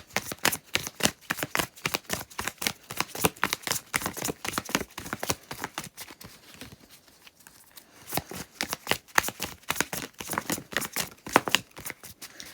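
Tarot cards shuffled by hand in quick, crisp riffles and slides, loud and close, with a short pause in the middle before the brisk shuffling resumes, no talking.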